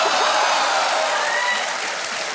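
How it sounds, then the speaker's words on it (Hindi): Steady studio audience applause on the set of the Indian quiz show Kaun Banega Crorepati, season 9, filling the room with dense, loud clapping that holds evenly throughout and fades only slightly at the end. "तालियां बज जाए इनके लिए"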